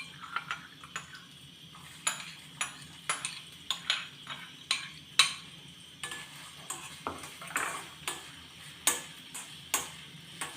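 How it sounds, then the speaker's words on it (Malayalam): Grated coconut fried and stirred in hot oil in a pan, sounding as a steady series of close metallic scrapes and clinks from a utensil against the pan over a faint sizzle, with no talking. "എണ്ണ ചൂടായിട്ടുണ്ട് നമുക്ക് തേങ്ങ വറുത്തെടുക്കാം"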